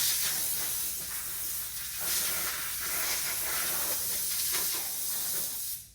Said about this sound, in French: J'y vais avec l'air comprimé, mais pas super fort, tu sais, il y a peut-être 20-30 livres.